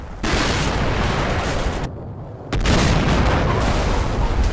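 Soviet T-62 tank guns firing at an American M60 tank in the Cold War strategy game Combat Mission, with heavy, continuous booming roar and rumble, a brief dip, then another loud blast that keeps rolling.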